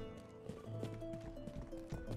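Horse hooves clip-clop in the Rustler video game, a steady rhythmic trotting over game music with sustained tones, moderately faint and continuous throughout.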